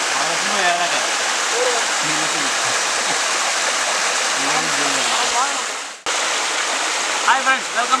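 Bhairavakona waterfall roars as a steady, loud rush of falling water, with voices talking briefly over it.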